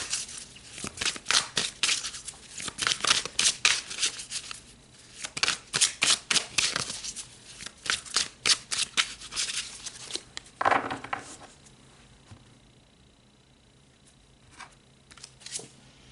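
Tarot cards being shuffled by hand in a quiet room: repeated close, crisp riffling bursts in quick rhythm, pausing briefly before a last flurry and a few soft taps as the deck settles.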